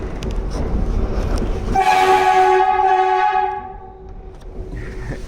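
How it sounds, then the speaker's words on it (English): An NYC subway train sounds its horn in a loud, sustained chord lasting about two seconds over rumbling rail noise, with the horn fading away afterward. "It is an actual bona fide train. And it is a bona fide train horn."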